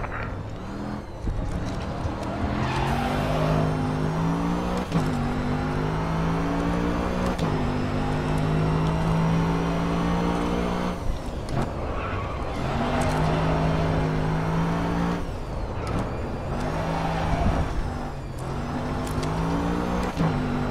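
Mercedes AMG GT3 race car in GRID Autosport at Autodromo do Algarve, its engine loud and close, revving up through the gears with repeated rising pitch sweeps and brief lifts between shifts.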